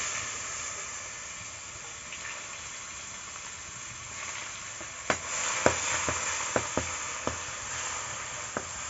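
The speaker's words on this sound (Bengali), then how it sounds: "পেঁয়াজটাকে হালকা একটু ভেজে নেব" Chopped onion fries in a pan with dry chillies and cumin, giving a steady soft sizzle and hiss, with a few sharp clicks and taps of stirring in the second half; no talking.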